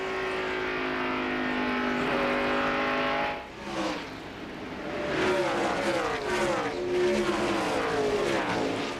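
NASCAR Winston Cup cars at the 2001 Pennzoil Freedom 400 scream past one after another, a sustained engine wail followed by several rapid Doppler passes at moderate distance.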